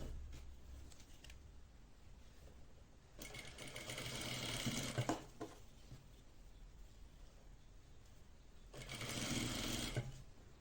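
A sewing machine runs in two bursts, stitching fabric together with stretched elastic for underwear, its rapid needle clatter close and steady between quieter pauses with no talking.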